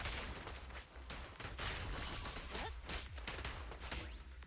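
Rapid bursts of gunfire from shot shells in the action game Zenless Zone Zero, dense and continuous across the clip, layered with game effects and crashes.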